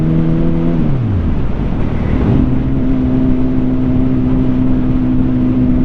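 A Suzuki GSX-R1000 motorcycle ridden on an open road, heard up close: the engine note drops as the rider rolls off, then settles into a steady, loud humming drone with wind rushing over it.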